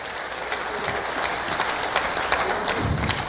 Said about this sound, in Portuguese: Uma salva de palmas para eles, gente.